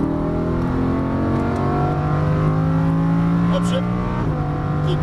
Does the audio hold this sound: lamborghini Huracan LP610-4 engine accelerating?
yes